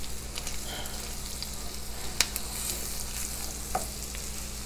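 Rice being stirred in a pot with other jambalaya ingredients as it cooks for a Louisiana-style dish: a steady close hiss of frying with a couple of sharp clicks, no voices.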